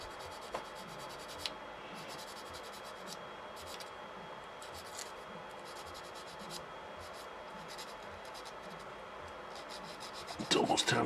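A sander works over an SU-152 tank model in a steady, close rasping rub that runs throughout, with a louder bump near the end.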